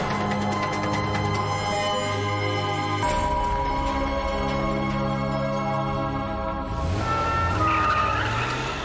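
Police cars race toward a village pub near Birmingham, engines roaring close and loud as tires skid and squeal in long sweeping bursts, with a sharp break partway through and a higher squeal near the end.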